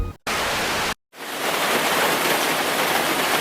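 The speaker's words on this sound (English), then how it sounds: "it literally started raining while I was in the middle of sharing the mo'olelo" Steady rain falling outdoors in Puna, Hawaii, a dense, even hiss that begins after two short dropouts and then runs unbroken and fairly loud for the rest of the clip, with no talking.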